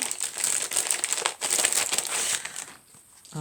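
Crinkly paper envelopes handled during an unboxing of craft supplies, a close, continuous rustling and crumpling that fades briefly near the end before one last crinkle.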